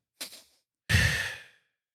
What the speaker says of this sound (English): this quick inhale twice with a longer exhale